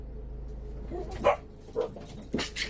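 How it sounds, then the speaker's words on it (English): A few separate dog barks, moderately close, spaced about half a second apart, over low background hum of passing cars. "This is the barking time."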